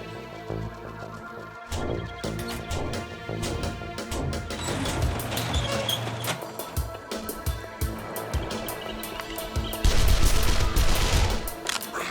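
A submachine gun in the zombie survival game 7 Days to Die fires a long, loud continuous burst as a full magazine is emptied, dense rapid shots with impact crashes and a heavier surge near the end.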